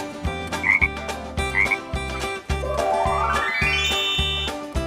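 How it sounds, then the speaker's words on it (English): A frog croaks in loud, close, repeated bursts over a bouncy backing music track, with a rising tone sweeping up partway through. "Frog, frog."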